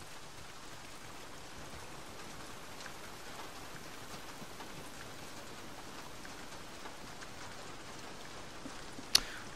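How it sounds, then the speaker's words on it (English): Steady rain in the open-world game Days Gone, a dense even patter of drops falling on surfaces for the whole stretch, with one brief sharp tap near the end and no talk. "If it's not the freaks, it's the goddamn rain. Why is it always raining?"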